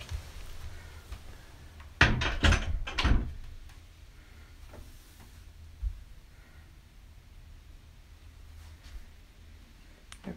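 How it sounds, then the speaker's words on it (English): A door to a home chapel bangs shut on a windy day with a cluster of sharp knocks and rattles, then a quieter room with faint wind and a soft thud after. "I'm gonna close the door because it's windy."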